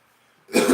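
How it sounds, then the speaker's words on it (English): A single sharp, loud cough close to the microphone breaks out after a near-silent moment. "I don't want to be coughing on the camera"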